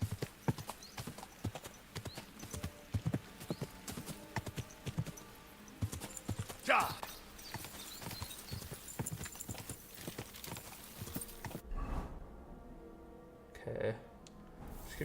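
Horse hooves clip-clop at a steady walking rhythm in Kingdom Come Deliverance, close and continuous, with occasional other game sounds layered in before a brief quieter stretch near the end.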